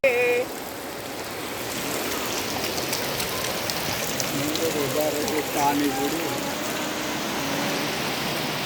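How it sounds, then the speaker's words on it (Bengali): Steady rain pours down in a continuous hiss during three days of flooding rain, with a few faint voices in the background. "একটানা 3 দিন বৃষ্টি"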